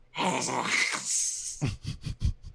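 A voice makes a breathy, rasping hiss, then a run of short guttural grunting bursts, imitating hissing zombie scarecrows during a Curse of Strahd tabletop game; close and fairly loud.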